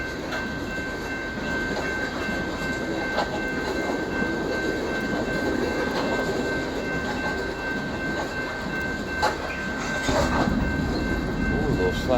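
A loaded coal freight train heading east at Pacific Junction, Iowa, rolls past with a continuous rumble, rhythmic wheel clicks and metallic squeal, heard at moderate distance.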